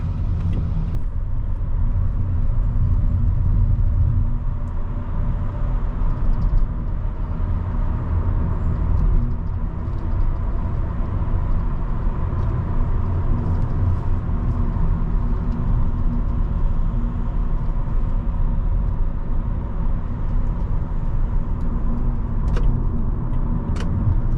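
A 2012 Toyota Camry SE V6 cruising on the road, heard from inside the cabin as a steady, loud low engine and road rumble that holds unbroken throughout, with no talking.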